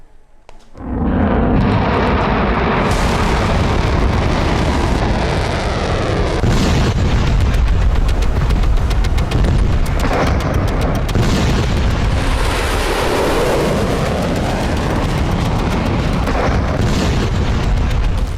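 Missile strike explosions in Iran-Israel war footage form a loud, sustained rumbling roar of booms that rises sharply at the start and stays heavy and dense throughout.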